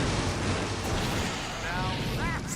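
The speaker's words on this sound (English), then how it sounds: "Now that's an explosion" The big explosion finale in the video game Full Throttle Remastered is a loud, dense, sustained roar of rumbling blast and crackle that fills the whole clip, with faint tonal whines near the end.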